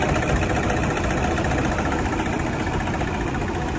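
The engine of a 2015 model car with a check-engine fault idles continuously nearby, giving a steady rattling, vibrating hum with no other sounds over it.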